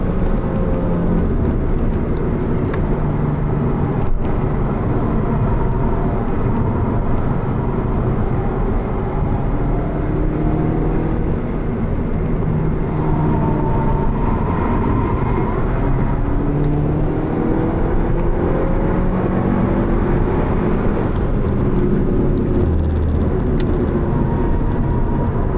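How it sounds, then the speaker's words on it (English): A 2025 Skoda Octavia RS driving on a racetrack, its steady engine drone and road rumble filling the cabin continuously with shifting engine pitch as it accelerates, no voices. "For a minute, just listen to the vehicle doing its thing."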